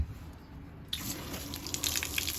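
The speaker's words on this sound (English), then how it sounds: "And a good stream of pink coming out of the hot water line as well." Pink RV antifreeze pours from a camper's hot water drain line during winterizing, a steady splashing stream starting abruptly after a second of quiet and continuing close and moderately loud.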